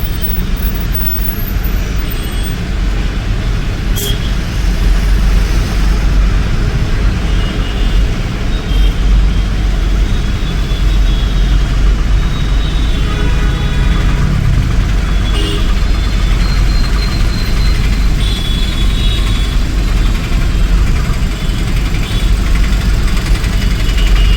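A loaded lorry carrying about three tons of material drives along with its engine running, a steady, loud droning rumble that continues unbroken with no talking.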